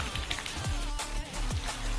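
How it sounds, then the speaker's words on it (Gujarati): Steady rain keeps falling outdoors, a dense even patter of drops on surfaces filling the short stretch with no voices. "વરસાદ તો ચાલુ જ છે હજી"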